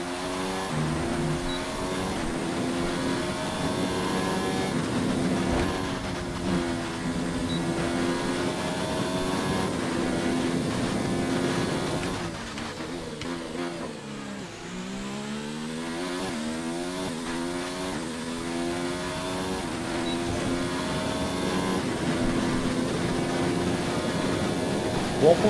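A Formula 1 car in the F1 2019 racing game screams around the German Grand Prix track, its engine note climbing and dropping through gear changes, loud and continuous with no talking.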